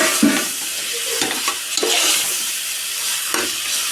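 Spicy chicken fries in a pan with chili powder and sesame oil, a continuous hiss of sizzling broken by several scraping stirs of a utensil, heard up close without any voices.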